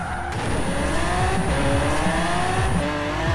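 In Forza Horizon 4, a 1955 Chevy 150 Utility Sedan drifts with a loud, continuous engine roar and rising, shifting pitch, joined by steady tire squeal throughout.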